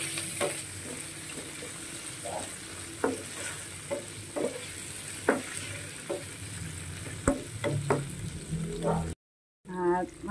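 A utensil stirs fish, tausi and tofu in a hot pan, scraping and clacking in short irregular strokes over a steady background sizzle, close up and fairly quiet.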